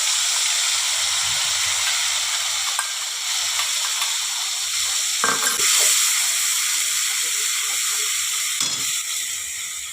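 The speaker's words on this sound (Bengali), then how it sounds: "বন্ধুরা, পেঁয়াজ বাটাটা দিয়ে দিলাম।" Ground onion paste sizzles in a pan of hot oil while a rohu fish mustard dish is made, giving a constant close hiss with a few soft stirring knocks and no speech.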